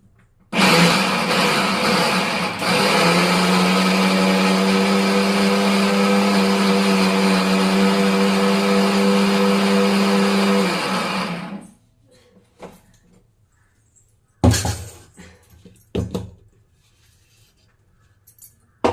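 A mixer grinder whirs loudly and steadily for about eleven seconds while grinding turmeric into spice powder, with a brief dip early on as it pulses. The motor then cuts out, leaving quiet, followed by a few sharp clinks and knocks of the jar.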